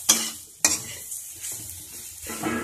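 Potato and pea filling stirred and fried in a pan, two sharp scrapes of the utensil against the pan over a soft sizzle, close and without talk.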